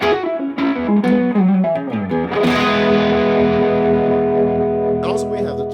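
Electric guitar played through a Cornerstone Colosseum pedal with reverb, sustained overdriven chords ringing out into a large, washy tail, loud and close.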